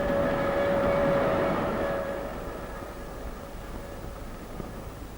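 A Spanish train rumbles along steadily with a sustained whine, loud at first and then easing into a duller roll.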